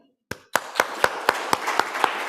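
A small audience at a climate justice summer school workshop in Nairobi claps after a talk, with sharp individual claps settling into a steady, fairly close rhythm.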